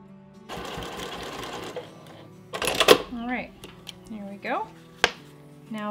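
Home sewing machine back stitching joined elastic pieces for a reusable kombucha cloth cover, a close rapid whirring burst of needle strokes followed by short stop-start runs and clicks, with a voice speaking between the bursts.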